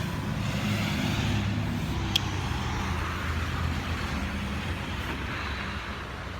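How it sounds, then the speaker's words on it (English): Steady road traffic rumbles at a distance, a continuous low wash of passing cars with a brief click partway through and no voices. "lot of traffic."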